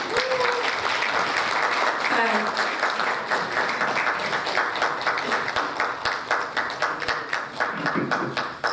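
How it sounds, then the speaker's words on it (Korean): Audience applause at a Korean community council ceremony in Atlanta marking a leadership handover and flag presentation; steady, dense clapping from a sizable crowd runs throughout, with a voice briefly audible over it. "모두 큰 박수 부탁드립니다."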